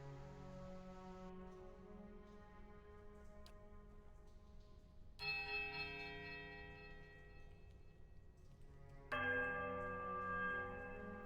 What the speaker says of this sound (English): Okay, silence the bell. That's the bell he was talking about.